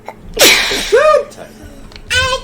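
A single loud, close sneeze bursts out, followed moments later by a short second sneeze-like burst, with people talking casually around it during a video game play session.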